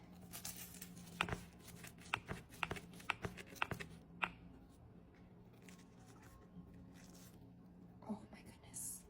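A knife slicing through a Monte Cristo sandwich gives several sharp crunchy cuts in quick succession, close up and fairly quiet, with a few scattered crackles afterward and no talk.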